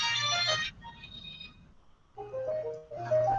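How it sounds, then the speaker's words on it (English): An old low-tech mobile phone ringing with a simple electronic melody in two bursts separated by a short lull, fairly close and clear, no speech. "My phone's ringing."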